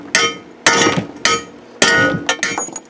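Metal hammer strikes flattening a long-tube exhaust header tube for a 4.3 Vortec engine, four loud sharp clanging blows at uneven intervals with ringing decay and smaller taps between, no talk.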